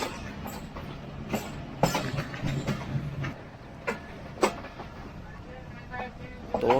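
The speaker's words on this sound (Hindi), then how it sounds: "तो इस वक्त ट्रेन हमारी जो है वो एंटर हो रही है गुजरहां रेलवे स्टेशन पर।" A passenger train pulls into Gujar Khan railway station in rainy weather, heard from inside an economy-class carriage as a steady rumble with intermittent clanks and rattles of the wagons, and a voice talks over it.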